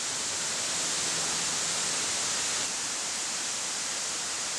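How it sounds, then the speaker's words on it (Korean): A tall waterfall at the entrance to Surisan mountain, a strong stream of water dropping from tens of meters, gives a dense, steady roar, loud and unbroken, with no voices. "시원한 폭포 소리에 이끌려 찾아간 수리산 입구."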